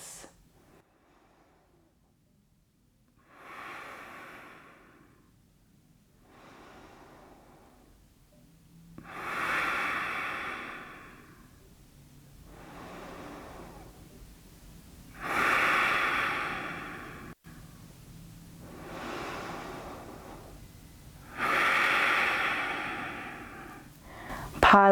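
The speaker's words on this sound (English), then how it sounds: "Deep, slow breaths." Deep, slow breathing through the nose during an at-home power yoga session: about six long inhale-exhale cycles, close and clear, rising and falling in steady swells with quiet gaps between.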